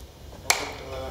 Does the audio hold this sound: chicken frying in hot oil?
no